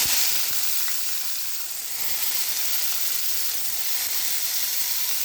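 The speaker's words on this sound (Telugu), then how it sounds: "ఆయిల్ వేడైంది ఫ్రెండ్స్, ఇప్పుడు ఆనియన్స్ వేసేసుకుందాం" Onions frying in hot oil in a pan for a tamarind-leaf and dried-prawn curry, a steady, close, hissing sizzle that continues unbroken, with no talking.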